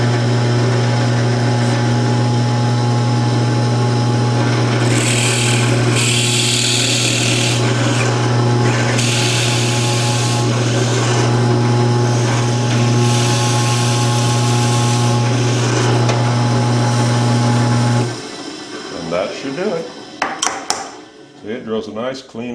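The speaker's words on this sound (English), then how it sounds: "I'm going to drill that hole straight down and stop about right there." A drill press whines steadily while a Forstner bit grinds into wood in several rasping pushes, then the motor winds down and stops.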